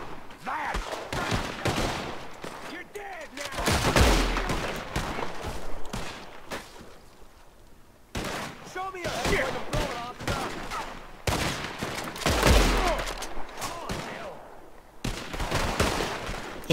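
Gunfire in Red Dead Redemption at an enemy camp: scattered shots and short bursts, some booming close and others farther off, with someone talking between them.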